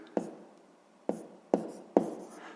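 Four separate scratchy strokes of a pen on paper, spaced irregularly and close, while fractions are worked out for a fifth-grade maths exercise. The room is otherwise quiet.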